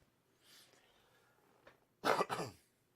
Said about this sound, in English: Constantly have to clear my throat.